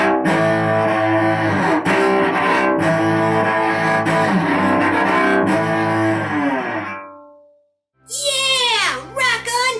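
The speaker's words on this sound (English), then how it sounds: "And we can play metal cello, which sounds distorted." Cello played in a distorted metal style, a dense sustained bowed tone with gritty harmonics that cuts off abruptly, followed by a brief burst of warbling, sliding electronic effects at the end.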